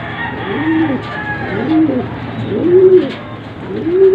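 Racing pigeons cooing close by, several rolling coos repeating every second or so with steady low murmuring underneath, loud and near in a loft setting.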